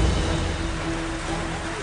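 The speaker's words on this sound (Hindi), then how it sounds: "तेज बारिश" Dense, steady rain hissing without pause, with a low rumble underneath.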